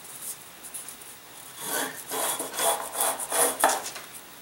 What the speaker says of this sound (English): you're sanding away a lot of the surface here